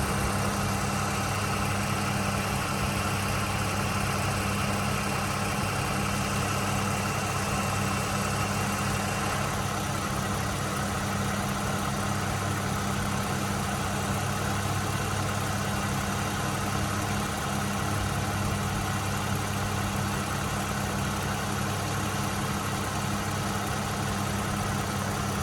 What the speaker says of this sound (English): I'm just going to hover here for a moment so you can listen to the engine at idle.